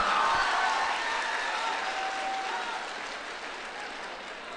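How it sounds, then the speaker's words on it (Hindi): An audience at a talk on preparing for competitive exams claps for itself, a dense, even wash of applause that slowly fades. "आप अपने लिए तालियां बजाएं।"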